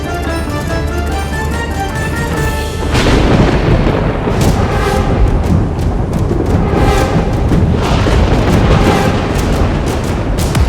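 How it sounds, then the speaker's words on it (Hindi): A violent storm roars with thunder and torrential rain, a loud dense wall of rumbling and crashing that swells after a few seconds and keeps booming with repeated heavy surges. "ये भीषण आंधी, ये मूसलाधार वर्षा"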